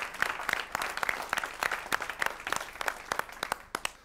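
A studio audience at a Georgian television show applauds, dense steady clapping from many hands.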